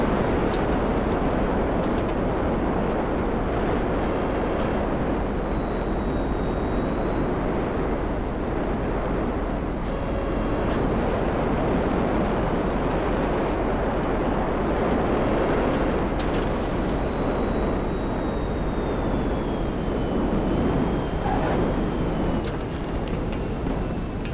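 The Raiju jet in GTA 5 Online gives a loud, constant roaring engine drone with a high whine riding on top, holding steady throughout with no talk.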